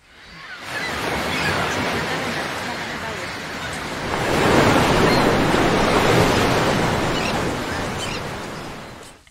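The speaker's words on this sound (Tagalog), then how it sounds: "Dito kami sa dagat." Broad, hissing sea surf rolls in, building to a louder wash midway before easing off, steady and close with no clear voices.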